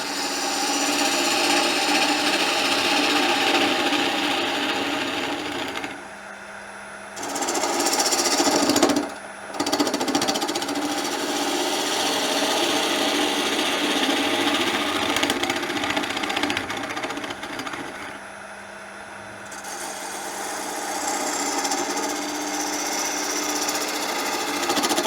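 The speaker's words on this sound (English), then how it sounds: "We're going to hollow this hat out just a little bit" Woodturning gouge hollowing a wooden gnome hat on a spinning lathe, a loud continuous rough cutting buzz and scrape with brief pauses as the tool lifts off, resuming each time, with no talking.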